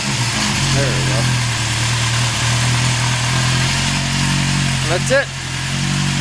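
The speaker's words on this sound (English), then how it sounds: "That's my old Honda, and she runs good. I should start it up really quick and show you." An old, slightly modified 1974 Honda CB750K motorcycle engine idling steadily up close with a low, even rumble, while someone talks briefly over it.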